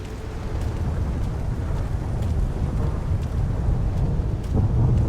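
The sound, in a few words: thunder from lightning in video game Stalker GAMMA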